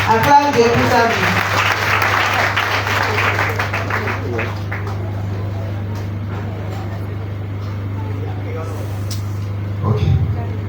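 A church congregation claps together in a warm burst at the start that fades into a steady low hum, with a voice speaking over it and a brief rise again near the end.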